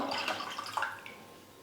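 Tamarind water and tomato juice are poured together in a home kitchen, a steady liquid splashing and trickling that fades out over a second or so, close and moderately loud.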